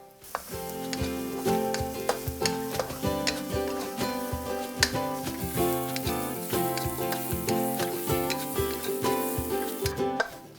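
Garlic stir-fries in hot oil for squid with salt and chilli, a bright continuous sizzle broken by frequent quick metallic scrapes and taps of a utensil against the pan.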